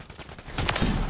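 Gunfire from Modern Warfare 3 multiplayer, quiet at first, then a dense burst of sharp, loud shots that rises near the middle and keeps going to the end.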